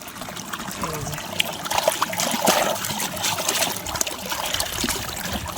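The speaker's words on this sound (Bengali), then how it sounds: "এই যে চেম্বার চেম্বারে পা ধুয়ে নেবো" Water splashing and trickling as feet are washed in a field water chamber, an uneven, close wet patter with brief splashes, no talk.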